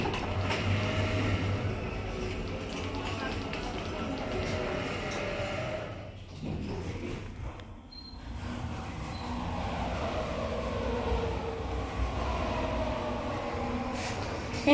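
A city-centre elevator descends to the ground floor with a steady, loud mechanical rumble and hum that dips briefly midway, then carries on, with no talking over it.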